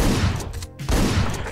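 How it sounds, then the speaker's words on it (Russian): Shotgun blasts in the video game Hotline Miami 2 come as loud, harsh bursts of noise, with two heavy volleys split by a brief gap, and no talking. "Окей, это был тоже дробовик."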